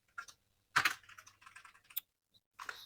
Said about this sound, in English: Type here Python